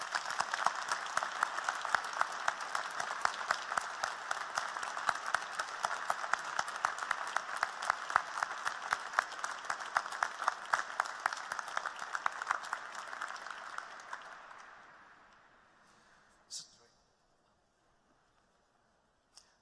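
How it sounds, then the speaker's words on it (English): Audience applause fills a university graduation ceremony, dense steady clapping from a large crowd that keeps going for about thirteen seconds before fading out, with a couple of isolated claps at the end. "Perhaps an additional round of applause."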